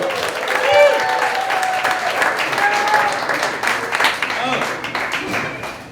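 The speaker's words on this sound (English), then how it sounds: "let's give a big old round of applause for my man, Mr. Jacob Guidry" A comedy roast audience breaks into loud, sustained applause that swells early and then carries on thickly, with some scattered cheers and voices mixed into the clapping.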